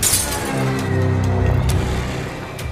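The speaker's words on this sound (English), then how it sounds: "causing a glass to explode." A drinking glass on a table explodes with a sharp burst, and bright crackling of shattering glass follows, ringing and sprinkling fragments fading over the next couple of seconds.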